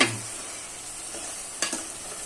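Chicken fry being stirred in a pan with masala powder, a soft continuous sizzle under a few brief scraping strokes of a spoon against the pan, close by and without talk.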